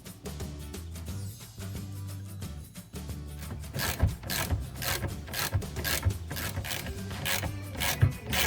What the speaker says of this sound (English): Tight the bolt until bushing flange touch the edge of the suspension arm.